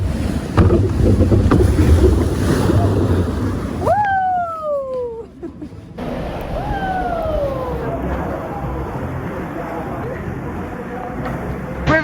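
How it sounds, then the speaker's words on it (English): Old-fashioned River Caves boat dark ride at Blackpool Pleasure Beach seaside amusement park, with a continuous low rumble of water and the ride and two gliding whistle-like tones, while people talk throughout. "It's just a feel-good boat ride, dark ride."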